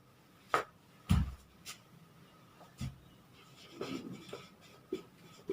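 Notes being written by hand during a lesson, a few scattered scratchy strokes and taps separated by pauses, close but faint, with no speech.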